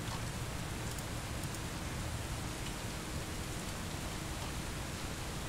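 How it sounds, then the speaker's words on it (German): Rain in the bus-driving game Bus Simulator 18 falls as a continuous, even hiss of dense drops, steady and unbroken throughout with no voices. "Und es regnet."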